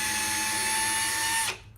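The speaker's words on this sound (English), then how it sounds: "it's important to keep a firm hold of the drill as well, because if it snags, it could rip it out your hand and break the drill bit" A power drill whines steadily as it bores into a wooden baby cot, a loud, continuous motor drone held close for over a second before cutting off abruptly, with no talking.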